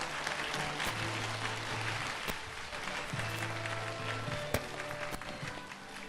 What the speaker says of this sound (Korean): 동국대학교 조벽 교수님을 여러분 따뜻한 박수로 맞이해 주시기 바랍니다